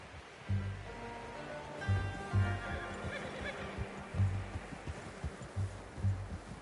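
A horse in Red Dead Redemption 2 gives a soft whinny and snorts over low rumbling hoof thuds, faint and close against quiet ambient background.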